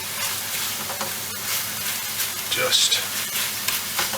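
Rajasthani lamb curry (laal maas) cooking in a pan, with a close, steady sizzle and scraping stirs that rise toward the end while a voice talks over it.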